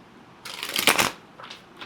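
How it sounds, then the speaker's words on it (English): A short riffle of tarot cards being shuffled close up, one quick flurry of papery flutter followed by a couple of faint softer flicks, with no talking. "I am going to shuffle the cards"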